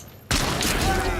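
A burst of game gunfire cuts in abruptly after brief quiet, a loud sustained crackle of shots and impacts that fills the rest of a shooter round, with a voice murmuring faintly underneath.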